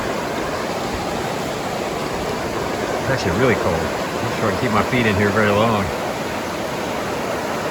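A cold river flows steadily nearby along the trail, its broad constant wash running beneath a person speaking partway through.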